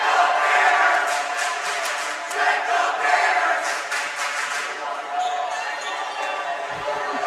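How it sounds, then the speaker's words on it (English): A crowd cheering and chanting back and forth at a Hoosac Valley versus Drury high school basketball game, a loud sustained roar in a gym that stays steady, then eases slightly toward the end. "Get a little Hoosac Drury cheer going back and forth"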